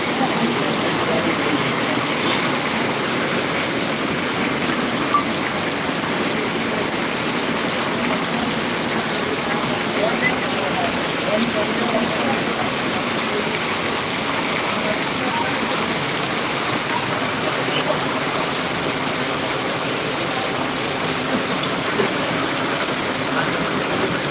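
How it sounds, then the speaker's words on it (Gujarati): Torrential monsoon downpour in Jamkandorna with runoff water flowing over footpaths, a loud, unbroken roar of rain and rushing water that holds steady throughout. "આંબેલાધાર વરસાદ પડે જો અત્યારે પાછો બીજો રાઉન્ડ"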